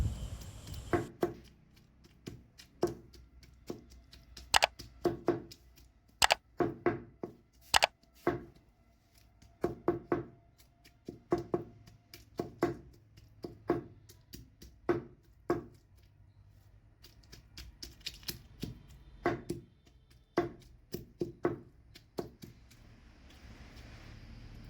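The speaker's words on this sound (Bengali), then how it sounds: "চিংড়ি মাছটা আমি একদম বাটবো না, পুতা দিয়ে থেতো করে দিচ্ছি" Prawns being crushed with a stone pestle, with irregular sharp pounding thuds repeating close by, some strokes loud and others softer, over a quiet background.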